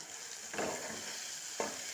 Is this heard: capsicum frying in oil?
yes